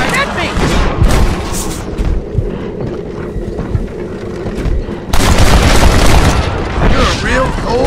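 Red Dead Redemption gunfight with repeated loud gunshots and booming reports, a heavy volley in the opening seconds easing off before another intense burst of fire near the end, all close and sharp.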